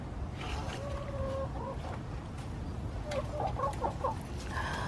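Chickens in a backyard coop, olive-egg layers among them, cluck and squawk in scattered bursts at close range over a steady background hiss.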